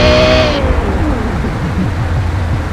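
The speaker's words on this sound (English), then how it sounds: "Doesn't all the way sound like a LaFerrari" A sports car engine in the Gran Turismo 2 racing game revs high and whines, then the pitch drops as it eases off, loud and close, with steady engine rumble continuing.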